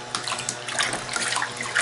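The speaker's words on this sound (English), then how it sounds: "Playing in the water with the swimming pool is so fun." Water splashing in a small toy swimming pool, a short bright burst of sloshing and splattering close by, with no talk.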